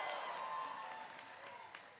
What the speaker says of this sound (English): Give yourself a big shout out for having done this.